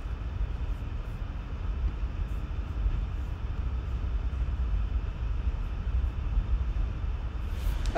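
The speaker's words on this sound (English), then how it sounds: "I'm sure you can hear my computer fan in the background." A desktop computer's cooling fan spins hard under the load of deep learning training, giving a steady, faint broadband whir and hum that holds even throughout, with no talking.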